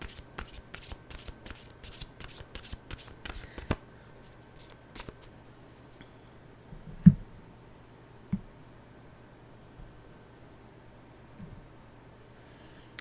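A deck of oracle cards is riffled and shuffled close by, a quick flurry of crisp flicks for a few seconds, then sparse soft taps and card handling in a quiet room.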